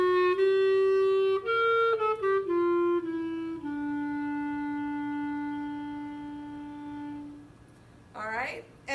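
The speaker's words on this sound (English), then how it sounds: "I'll play the clarinet part for you first." A clarinet plays a band part alone, a sequence of clear sustained notes stepping downward, ending in one long held tone, followed by a short burst of sound.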